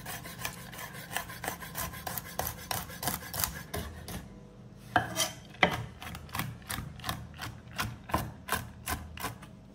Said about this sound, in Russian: Фисташки у нас готовые. И тоже мелко порезать.